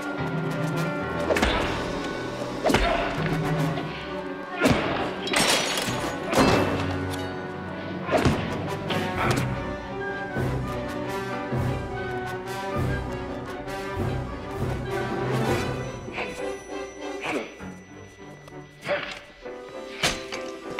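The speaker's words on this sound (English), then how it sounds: "Wesley gets punched in the face several times" Repeated heavy punches to the face land in a bar fight scene from the 1989 film Road House. The dull thuds and whacks come in an irregular series beneath loud, continuous music.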